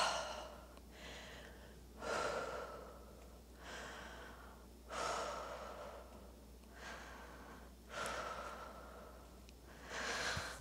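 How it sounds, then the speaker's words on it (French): Slow, deep yoga breaths taken while holding a low lunge, several soft inhales and exhales in a steady rhythm, close and quiet in a calm room with no talking. "3 respirations dans la fente basse."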